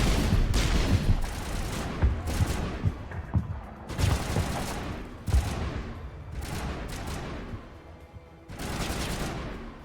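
Rapid gunfire from the Mass Effect Legendary video game, loud bursts of shots and automatic fire in close succession with brief pauses, sustained across the whole stretch with no talk.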